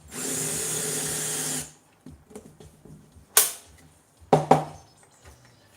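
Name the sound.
drilling a countersink in a cast aluminium plaque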